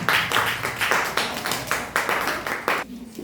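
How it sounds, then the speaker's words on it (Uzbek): Children clap together in a quick, uneven rhythm, about nine bursts of hand claps close by, stopping near the end. "Qarsak chalamiz."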